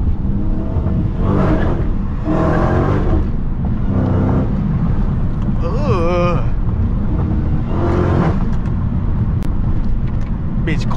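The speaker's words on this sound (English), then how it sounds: "First gear pull." A high-performance car, either a Dodge Hellcat or a ZL1 Camaro, accelerates hard in first gear, its loud engine roaring steadily from inside the cabin with a rising whine, no voices.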